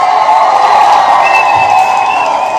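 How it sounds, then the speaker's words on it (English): Crowd cheering and applause at a live event, a loud, steady roar of clapping and whoops filling the whole stretch, with a sustained whistle running through the middle. "Let's give Ola a huge round of applause."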